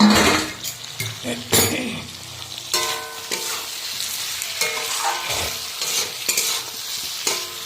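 Potato and pointed gourd sautéing in a pan with a steady sizzle, broken by repeated scraping stirs and clanks of a spatula against the pan, close and fairly loud throughout.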